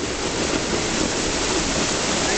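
Roaring river waterfall, a double cascade on the Río Verde, fills the scene with a steady, dense broadband rush of falling water, loud and close with no pauses.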